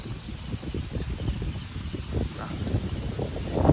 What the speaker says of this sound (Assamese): বতাহ বেয়া খাটাৰনাক আহিছে